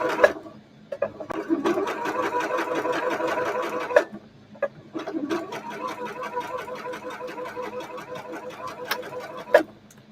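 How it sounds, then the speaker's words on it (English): A sewing machine stitches a dart on a shirt, running back and forward in two long whirring bursts separated by a short pause, with a few clicks at the stops. It is close and moderately loud, with no talking. "and then back stitch and forward stitch"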